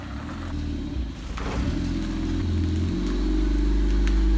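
An old Honda Civic LX with a rusted-off exhaust mid pipe revs up close, a deep rumbling drone that builds in loudness to a harsh roar before cutting off.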